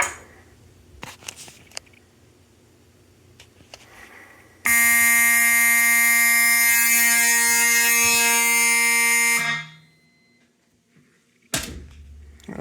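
A smoke detector's fire alarm sounds during a system test: a loud, steady electronic horn blares for about five seconds and then cuts off, with quiet handling clicks before it and after it.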